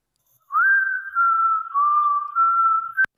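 A clear, sustained whistled melody from a music recording holds long, steady notes with a few small pitch steps, loud and alone with no other instruments, ending in a sharp click.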